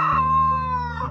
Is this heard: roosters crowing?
yes